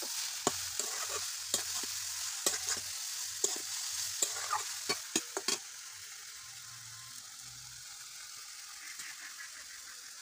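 Papaya for a korma fries quietly in a pan under a soft, continuous sizzle, with a series of light spatula taps and scrapes early on before the hiss carries on alone.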